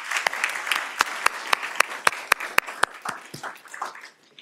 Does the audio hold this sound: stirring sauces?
no